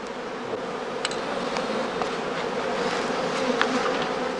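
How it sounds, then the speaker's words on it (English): A honeybee swarm drones continuously around straw skeps at a heathland bee stand in Lower Saxony, a dense, loud, steady buzz with individual bees passing close. "the beekeeper waits for the second swarms, or casts, to emerge from the skeps."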